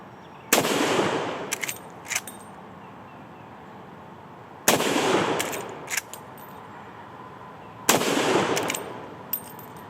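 Three loud, sharp rifle shots from a stainless steel Marlin 1895 Trapper lever-action, evenly spaced a few seconds apart outdoors, each followed by quick metallic clicks of the lever cycling.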